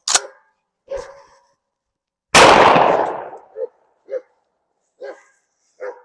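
A shotgun loaded with reloaded Winchester AA shells fires one loud blast outdoors that rings out and decays. A dog barks repeatedly before and after the shot.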